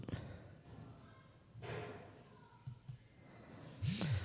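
A few soft mouse clicks while scheduling a Facebook group post, faint and scattered, with a sharper clicky burst near the end over quiet room tone.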